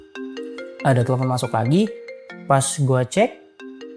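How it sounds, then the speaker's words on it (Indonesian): A phone ringtone for an incoming call plays a repeating electronic melody of steady tones, with a person talking loudly over much of it. "Tiba-tiba setelah 10 menit dari telepon itu ada telepon masuk lagi nih."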